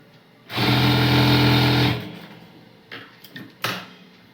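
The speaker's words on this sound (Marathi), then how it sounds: "थोडा कपडा ठेवून आपण शिलाई मारा घेणार आहे" A sewing machine stitches a baby frock in one steady, loud run of about a second and a half, followed by a few light clicks and handling knocks of the fabric and machine.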